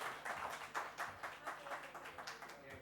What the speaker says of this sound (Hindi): सर के लिए तालियां प्लीज